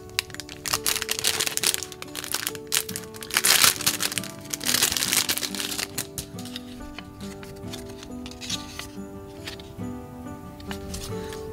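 Plastic bag from a 3D light-up spin art toy kit being opened and handled, with dense crinkling and crackling that is loudest early on, then gives way to softer rustling and handling noise.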